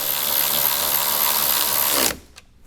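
A power tool screws a small trim bracket back into the interior of a 2021-or-later Ford Bronco, a steady loud whir running continuously for about two seconds before cutting off abruptly, followed by faint handling noise.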